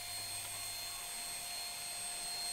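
A small handheld vacuum cleaner, a promotional shopping-channel product, runs steadily while sucking up scattered rice grains, giving a continuous high whine and airy hiss at moderate level with no talking.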